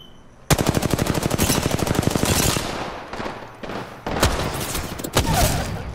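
Automatic gunfire in a video game: a long, rapid burst of loud shots, then a few scattered bursts and single cracks, with no voices over it.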